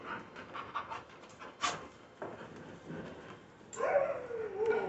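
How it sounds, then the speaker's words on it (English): Several rescue dogs pant in kennels, quick rhythmic breathing from more than one animal, with a brief whine and a louder burst of panting near the end, no speech. "So these are all the dogs available for adoption from Give a Dog a Home Rescue."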